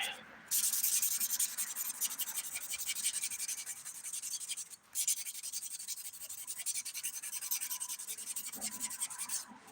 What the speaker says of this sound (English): Do a quick buffing.